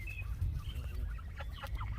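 A chicken clucks at a park, with soft repeated clucks and short calls over a steady low rumble of outdoor background noise.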